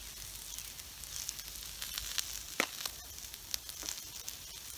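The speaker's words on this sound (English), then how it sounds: "So they're on the hot griddle." Beer brats on a hot griddle over a Watchman stove sizzle in a steady, fairly quiet hiss, with a few sharper pops and crackles breaking through. Nobody speaks.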